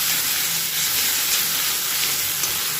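Garlic and chilli fry with spices in a pan for begun bharta, making a loud, continuous hissing sizzle. The wash of sound stays dense and steady throughout, with no talking.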